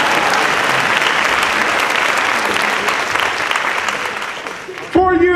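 An audience at a 2015 Mays Conservatory of the Arts graduation breaks into sustained, loud applause that gradually thins before a voice cuts in at the very end.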